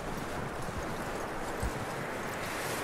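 Horse hooves clip-clop at a steady walking rhythm in the Western open-world game Red Dead Redemption 2, close and fairly loud over a continuous outdoor ambience, with one heavier thud midway.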